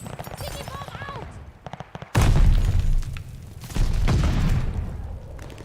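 Sticky bomb explosion in Call of Duty Vanguard: after a stretch of distant gunfire, a sudden loud, close boom erupts, followed by a second heavy blast a moment later, with rumbling decay between.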